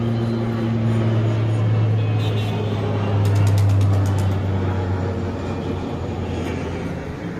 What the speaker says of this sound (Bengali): আর ওই দেখো একটা প্লেন যাচ্ছে।